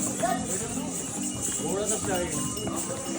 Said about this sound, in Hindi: ये देखो लोग जा रहे हैं खच्चर से